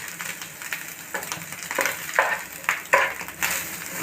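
Tomato, cabbage, carrot, capsicum and onion hit a hot pan for chicken noodles, a close, crackling sizzle broken by repeated sharp stirring scrapes and spatters in an uneven rhythm, with no talking.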